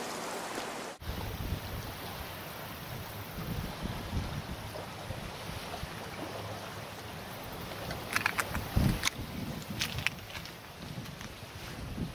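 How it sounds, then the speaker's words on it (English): Waves break on the windward side of an island in a steady broad wash of surf, with wind buffeting the microphone and a few louder crashes and splashes near the end. "these waves on the windward side are just brutal"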